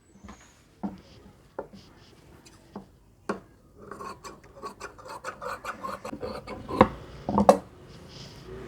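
Scissors cutting saree fabric for a girl's umbrella frock: a few isolated sharp snips, then a busier stretch of close crisp cutting and rustling cloth, with a couple of louder clicks near the end and no talking.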